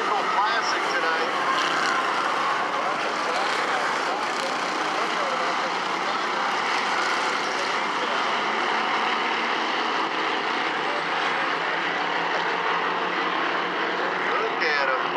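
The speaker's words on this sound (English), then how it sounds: "NASCAR bomber style here at the Bullring for the Chris Trickle Classic tonight." NASCAR bomber-style race cars race at the Bullring during the Chris Trickle Classic, with a loud, continuous engine roar from the pack and a race announcer talking over it.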